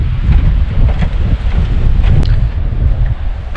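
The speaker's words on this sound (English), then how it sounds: "This is absolutely beautiful back here. Breezy day though." Steady breeze buffets the microphone on a warm, windy day at Upper Red Lake in northern Minnesota, a continuous low rumble of gusts with no talking.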